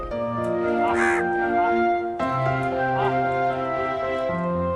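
Crows caw steadily at Budha Talab, a lakeside spot in Raipur, with many harsh calls overlapping in a dense, loud chorus that continues without a break.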